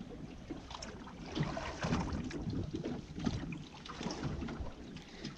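A motorboat out at sea passes during a fishing outing, its engine a steady broadband rumble with swells of wind and water noise that rise and fall over several seconds, moderately near and without speech.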